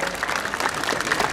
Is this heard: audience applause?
yes